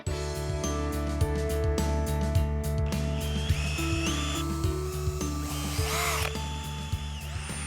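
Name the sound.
power drill drilling pilot holes in wood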